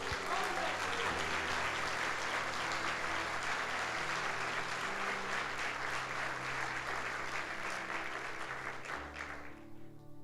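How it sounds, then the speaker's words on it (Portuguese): A church congregation at a Sunday service applauds steadily for about nine seconds, a dense wash of clapping that tapers off near the end as a voice returns. "Vamos dar um aplauso a ele."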